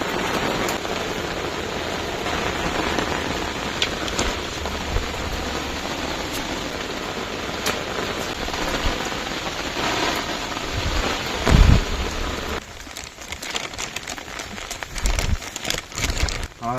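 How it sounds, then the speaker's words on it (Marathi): Steady rain pours down at night beside a river in the Konkan countryside, a dense continuous hiss with a heavy thunder crack near the middle and rumbling gusts later on. "पाऊस लागलाय"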